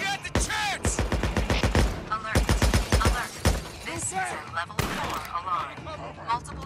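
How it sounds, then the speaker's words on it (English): Rapid bursts of gunfire from the video game Days Gone, fired in several quick volleys with short gaps between them, loud and close, with voices talking over and between the shots. "Multiple shots have been fired."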